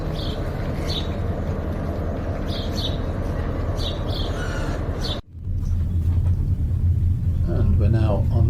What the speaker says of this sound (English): Looks like a bit of engine running around its train going on here.